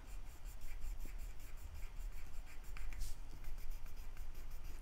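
A flat-tipped pencil lead rubs steadily across paper while colouring in a colouring-book style drawing for a scrapbooking project, giving a continuous close, soft scratchy shading texture with small stroke-to-stroke variations and no talk.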